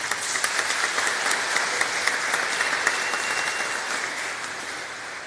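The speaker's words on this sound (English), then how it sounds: "if you would provide them with a little bit of brief applause" Brief applause from an audience at a university new student convocation, greeting the Vice President for Student Affairs: a steady, even wash of many hands clapping that holds for several seconds and slowly fades near the end, with no voices over it.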